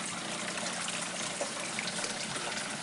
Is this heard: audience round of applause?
no